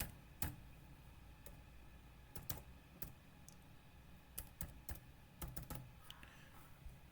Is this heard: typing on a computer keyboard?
yes